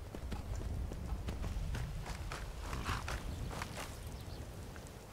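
Horse hooves in the Skyrim video game, a steady clip-clop of walking hooves over a continuous rumbling background, moderately loud and close.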